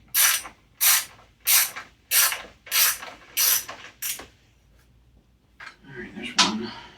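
Ratchet wrench working 10 mm bolts on a Bolens mower, seven loud evenly spaced bursts of clicking close by, then a pause and a softer scrape with a brief voice at the end.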